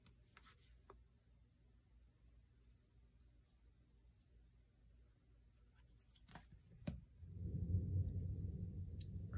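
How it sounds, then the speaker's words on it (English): Thunder rumbles outdoors during a quiet indoor craft session, starting as a few faint cracks and then swelling into a long, deep, rolling rumble near the end, with no voices. "ooh, you hear that thunder?"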